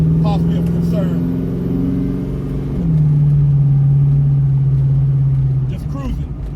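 A 600hp Chevrolet Chevelle engine cruises on a freeway, a steady low drone that dips in pitch partway through and then holds, loud and close throughout inside the moving car.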